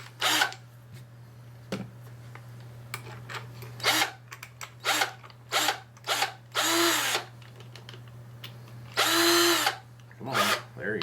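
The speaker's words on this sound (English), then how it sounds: "So now I'm going to switch to the step drill." A step drill cuts a hole in the plastic housing of a cheap Chinese handheld-radio speaker mic, in repeated short whining bursts of varying length with pauses between, close up over a constant low hum.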